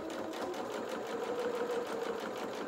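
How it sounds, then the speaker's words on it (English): A sewing machine runs steadily, stitching a fabric bow along a quarter-inch seam allowance. The needle whirs at an even, fast rhythm, close and clear with no talking. "we'll get the sewing machine together and we'll get stitching"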